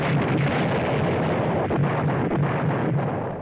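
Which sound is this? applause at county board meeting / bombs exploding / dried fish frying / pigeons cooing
bombs exploding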